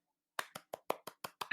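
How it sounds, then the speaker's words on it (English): One person claps seven times in a slow, even rhythm, each clap crisp and close, before a brief louder burst at the end in a quiet podcast setting. "I'm applauding too."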